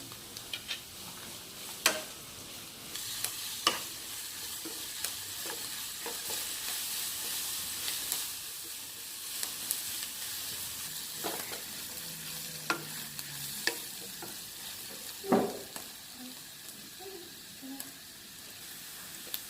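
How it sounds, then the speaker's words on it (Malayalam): Onions sautéed with a pinch of salt in a pan for an egg masala curry, a soft steady sizzle with light scraping stirs and occasional clicks of the spatula against the pan, moderately close, no talking. "കുറച്ച് ഉപ്പിട്ടിട്ടാണ് ഇത് വഴറ്റുന്നത്."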